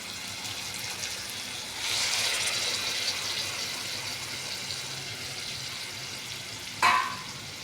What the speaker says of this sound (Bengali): এবার আমি কড়াইতে ছেড়ে দেব।